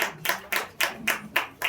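Audience clapping at a World Theatre Day stage celebration, heard as rhythmic bursts of hand claps recurring about every quarter second, fairly close and clear, with no voices over it.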